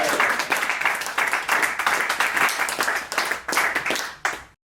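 A quiz show audience applauds for a few seconds, with dense, fairly close clapping that stops abruptly.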